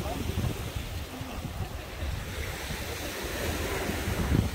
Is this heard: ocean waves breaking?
yes